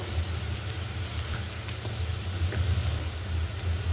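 Onion paste and garlic paste frying with spices in oil give a steady, loud, close sizzle with a continuous hiss and faint stirring, no talk.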